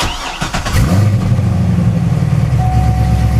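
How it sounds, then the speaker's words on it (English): A car engine starts with a quick cranking burst, catches, and settles into a loud, steady idle close by, with no voices. "then you're going to go ahead and start your car"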